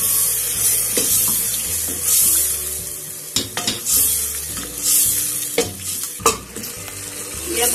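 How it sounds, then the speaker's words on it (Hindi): Ginger, garlic, tomato and green chillies fry in hot oil in a pan for an aloo baingan curry, with loud continuous sizzling, crackling bursts and stirring scrapes close up, and no talking. "अब ये अदरक लहसुन और टमाटर हरी मिर्चें जो हमने काटे थे ये सारे डाल देंगे।"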